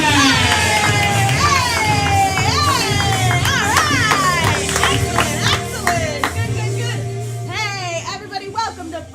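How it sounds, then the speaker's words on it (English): A small but lively comedy show audience claps, cheers and hollers loudly at close range, with whoops and shouts rising over steady applause that gradually thins out. "So let's keep that clapping going. In fact, let's start hollering and let's make some noise."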